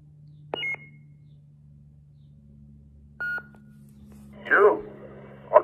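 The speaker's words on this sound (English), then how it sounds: "Let's go over the sound fonts on this one." Parks Sabers ESB Graflex Force FX lightsaber with Luke Skywalker sound fonts gives a few short electronic chirps and tones, then a louder swelling hum-like burst and a final sharp blip, spaced apart over a low steady drone.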